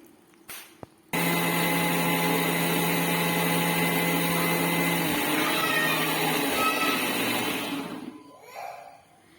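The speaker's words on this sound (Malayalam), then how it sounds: "മിക്സിയുടെ ജാറിലേക്ക് ഇട്ട് കൊടുത്തിട്ടുണ്ട് ഇനി അതിലേക്ക് അല്പം കറിവേപ്പില കൂടി ചേർത്ത് ഇതൊന്ന് നന്നായിട്ട് അരച്ചെടുക്കാം" An electric mixer grinder whirs loudly and steadily as it grinds coconut with curry leaves for a Kerala-style puli curry, starting abruptly after a couple of brief clicks and running about seven seconds before winding down.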